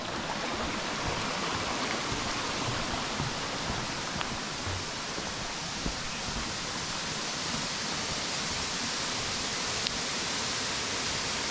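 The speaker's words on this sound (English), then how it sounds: "Creeping in on this waterfall." A waterfall along the North Country Trail through Pictured Rocks, heard as a steady, dense broadband rush of falling water that holds at an even level throughout, with no voices.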